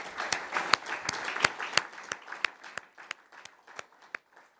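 An audience at a nutrition conference session claps for the conference chairs. Dense clapping starts at once and thins into a few scattered claps as it fades over several seconds.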